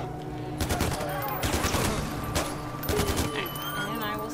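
Bursts of rapid gunfire from the video game Far Cry 4, several volleys of shots at mid distance, sitting among continuous game sounds with a voice talking at points.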